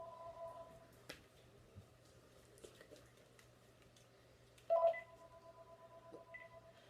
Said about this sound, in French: Bon, désolé, c'était mon téléphone.